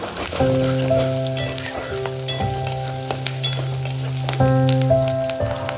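Prawns sizzle in a pan while grated ginger goes in, a bright steady crackle broken by ringing metallic clinks and scrapes of a utensil against the pan, close and loud, with no voices.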